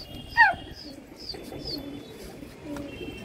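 Hyderabadi pigeons calling, a short clear call near the start, then soft faint chirps over a quiet background.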